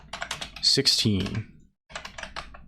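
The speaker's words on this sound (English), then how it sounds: "But we're typing." Computer keyboard typing during a live stream, quick close key clicks running under a man's speech and continuing in a brief pause.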